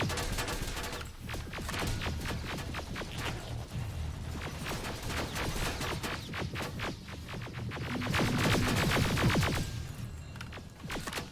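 Rapid bursts of automatic gunfire and weapon fire from the video game Terminator: Resistance, set in the Hollywood Hills, crackle steadily throughout and swell louder and denser near the end, with mechanical clatter mixed in.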